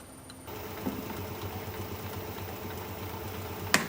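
A wood lathe spins an unbalanced bowl blank at about 490 RPM, giving a steady low motor hum with a faint rhythmic wobble that starts abruptly and holds, plus a sharp knock near the end.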